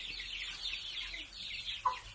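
Young domestic chickens about one month old cluck and chirp softly and continuously in a coop, with one brief louder call near the end.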